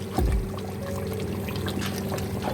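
Hot water pours steadily into a cooking pot of beef paya with a splashy, continuous gurgle, a brief heavier gush at the start, then an even flow.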